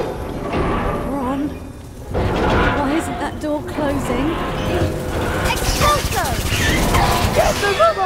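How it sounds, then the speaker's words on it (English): Explosion in the Harry Potter and the Deathly Hallows Part 2 video game, a loud burst around two seconds followed by crashing, thudding game action and shouting voices. "Explosion!"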